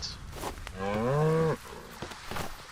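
A cow in the video game Atlas lets out a single close, rising-and-falling moo lasting under a second, framed by soft game ambience and small clicks.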